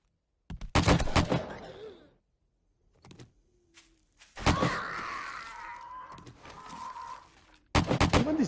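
Gunfire in the 7 Days to Die video game, Darkness Falls mod: several sharp shot bursts arrive in separate clusters with quiet gaps between, loud and close, with scattered game sounds in between.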